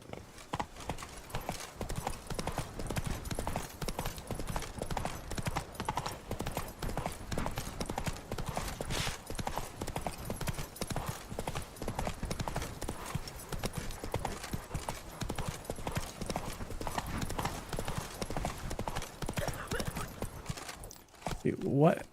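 The horse Roach trotting in The Witcher 3, a steady rhythmic clip-clop of hooves running throughout, with someone talking over it.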